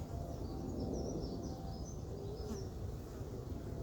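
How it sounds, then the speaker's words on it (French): Honeybees buzz outside the hive at an apiary on a cool day, a dense, close, continuous drone with individual bees whining past, and no talk. "je suis surpris à cette heure-là de voir des abeilles à l'extérieur comme ça"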